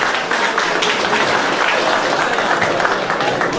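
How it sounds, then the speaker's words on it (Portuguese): Loud, sustained applause from an event crowd honoring visiting mayors at an Emater gathering, many hands clapping in a thick continuous roar that holds its level throughout. "uma salva de palmas dos prefeitos aí que fizeram essa composição"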